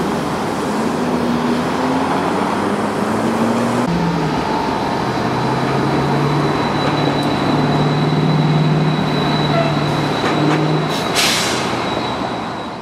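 A heavy coal train rumbles past close by in downtown Atlanta, steady wheel roar and clatter with a long low horn-like drone and brief squeals near the end.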